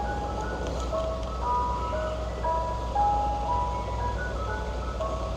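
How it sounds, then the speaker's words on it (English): Ice cream truck passing slowly on a street, its tinkling jingle melody playing steadily over a low engine rumble throughout, fairly loud and close. "hold on, let's let this ice cream truck over."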